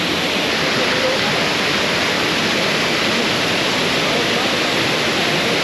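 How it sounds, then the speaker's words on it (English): Iguazu Falls roaring as huge volumes of water rush over the main falls, a dense, steady, broadband wash of noise heard from a viewpoint, loud and unbroken. "the main part of the falls over there where the majority of the water is rushing through"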